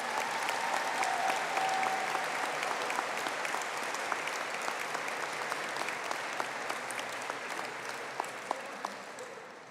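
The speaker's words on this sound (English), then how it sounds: "give a round of applause to the Bachelor of Business Honours graduates" An audience at a university conferring ceremony for business honours graduates applauds, with steady, even clapping from a large hall filling the whole stretch at moderate, distant volume.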